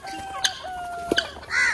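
Chickens on a rural farmyard give a few close clucks and short calls, with a longer squawk toward the end.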